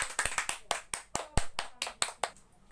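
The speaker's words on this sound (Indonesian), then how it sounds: "tepuk tangan dulu untuk temannya yang sudah tampil dan sudah ikut menjawab" Applause from a classroom of students for a classmate who answered, a burst of sharp, fairly close hand claps that taper off and fade out after a couple of seconds.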